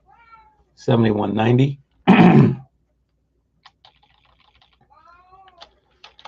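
A pet cat gives two drawn-out meows, the second sharper, close to the microphone in a quiet room, followed by faint scattered keyboard clicks and a brief voice.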